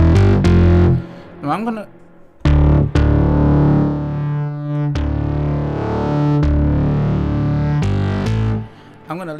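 Deep distorted bass synth tones from the Newfangled Audio Generate plugin play as sustained notes and short stabs, with someone speaking briefly between them.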